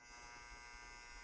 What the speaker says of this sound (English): sorry, that's my dryer